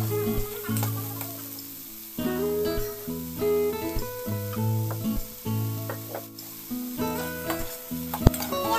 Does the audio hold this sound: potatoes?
yes